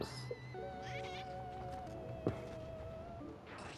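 A cat meowing in the video game Spelunky 2, giving a drawn-out tonal meow with a wavering pitch over game background sounds and a brief click, fairly clear and unaccompanied by speech.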